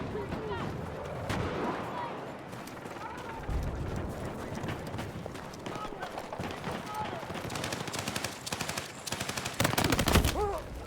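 Rapid machine-gun fire mixed with scattered gunshots and distant artillery in a military video game, continuous and busy throughout, with radio-style voice lines over the combat.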